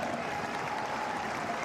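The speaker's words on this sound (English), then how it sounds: "Appreciated by the home crowd." A home crowd applauding at a women's football match between Wolfsburg and FC Union Berlin, with steady clapping across the stadium for a short moment.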